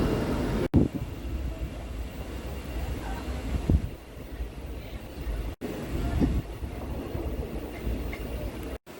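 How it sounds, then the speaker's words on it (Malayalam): A passenger train rolls along slowly near Sanvordem station, giving a low, moderate rumble with occasional clanks and knocks from the carriages, fairly quiet and even throughout. "വലിയ സ്പീഡിലൊന്നും അല്ല ട്രെയിൻ പോകുന്നത്"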